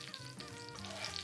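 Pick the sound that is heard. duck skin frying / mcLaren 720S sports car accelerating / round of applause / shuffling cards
duck skin frying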